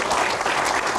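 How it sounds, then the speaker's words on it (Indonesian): Applause from an audience at a Q&A show, a dense steady wash of clapping filling the whole moment without pause. "Tepuk tangan dulu."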